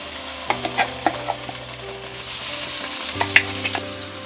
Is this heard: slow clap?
no